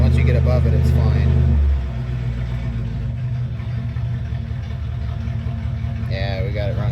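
A 1970 Ford F-250 Camper Special with a 302 small-block V8 idling, a deep steady exhaust rumble that drops to a lower idle early on, with someone talking near the end.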